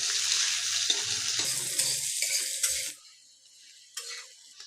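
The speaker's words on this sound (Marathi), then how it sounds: "मस्त तेलावर आवळे फ्राय करून घ्यायचे गॅस मोठा ठेवायचा आणि तेलावर मस्त फ्राय करायचे" Indian gooseberries (amla) frying in a ladleful of hot oil over a high flame, a steady crackling sizzle with some faint clatter that drops away to a quieter hiss toward the end.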